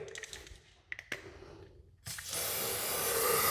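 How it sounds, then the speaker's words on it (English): A few light clicks and taps, then a can of silicone lubricant spray hisses steadily and loudly for over a second, continuing to the end. "I'm gonna use silicone spray"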